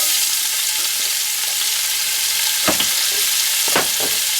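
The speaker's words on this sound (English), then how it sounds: "Now to the pan, we're going to add in 3 ounces of small diced onion" Small diced onion hits a hot pan for German potato salad, setting off a loud, steady sizzle of frying close up, with a few soft stirring knocks over the hiss.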